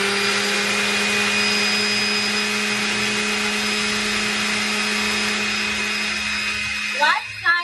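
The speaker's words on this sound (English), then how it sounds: "What kind of oil is in the blender with it?" A kitchen blender whirs continuously at high speed, blending oil and olives for an octopus sauce, loud and steady, with brief voices breaking in near the end.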